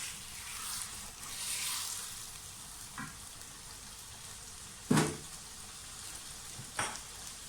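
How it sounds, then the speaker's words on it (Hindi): Chicken pieces for korma fry in hot oil with a quiet, steady sizzle, broken by a few sharp clicks and clatters of a utensil against the pan. "बस थोड़ा सा फ्राई करें कि थोड़ा सा गोल्डन ब्राउन सा कलर हो जाए चिकन का"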